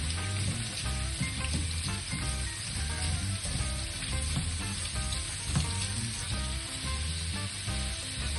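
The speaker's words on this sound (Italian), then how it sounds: "Dopo circa 2-3 minuti di rosolatura aggiungo le cipolle." Onions frying in a pan over browned meat for a finta genovese, a dense continuous sizzle and crackle that holds steady without voices.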